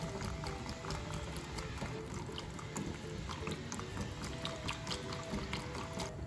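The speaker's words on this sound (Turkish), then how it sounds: "Sosu çırpıcıyla iyice karıştırıyorum" A milk, butter and flour sauce for a börek is whisked by hand in a pot. It makes a continuous wet swishing and sloshing at a low, even level, with no talking.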